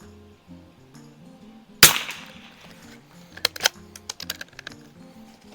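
A single sharp crack from a Mossberg 144US military trainer rifle fired with iron sights at a 50-yard target, loud and close, followed by faint scattered clicks and handling noise over a low background tone.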